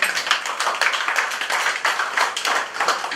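A church congregation claps together during a couple's blessing service, a lively rhythmic applause in even bursts filling the room, with no talking over it.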